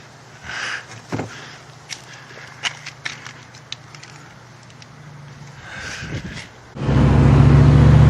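A car's engine runs through an improvised muffler built from a toolbox. A few faint scuffs and rustles come first, and then the exhaust starts up as a loud, steady, low rumble during the final seconds.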